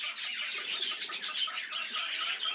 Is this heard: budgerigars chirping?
yes